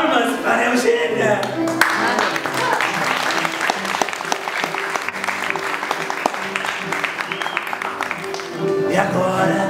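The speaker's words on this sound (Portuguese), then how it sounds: "Palmas para Eugênia." An audience at a stage show applauds Eugênia with sustained, dense clapping that fills the room for nearly ten seconds, with some voices and music mixed in beneath it.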